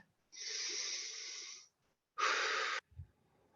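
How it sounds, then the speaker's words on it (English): Two long, steady breaths, in through the nose and out through the mouth: a slow airy inhale followed by a shorter, stronger exhale, close and alone in quiet, with a faint soft bump after. "breathe in through your nose and out through your mouth"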